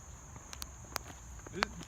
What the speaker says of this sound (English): In the deep dark woods, the cicadas are howling, as you can hear.